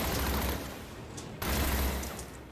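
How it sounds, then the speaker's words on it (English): Rapid bursts of gunfire aimed at the player in Batman: Arkham City crackle in dense, overlapping volleys, dipping briefly before a sharp renewed burst, fairly loud with no talk over it. "stop shooting me, boys!"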